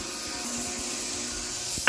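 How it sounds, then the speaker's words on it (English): Ultrasonic cleaner bought from Harbor Freight, running in the background as a steady broadband hiss with a faint high whine, continuous and fairly close, with no voices. "that noise you hear in the background is a ultrasonic cleaner"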